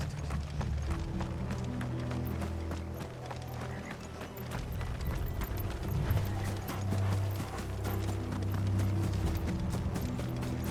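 Dense, rumbling gallop of several horses' hooves in Final Fantasy XVI, loud and continuous, over low droning background noise with no speech.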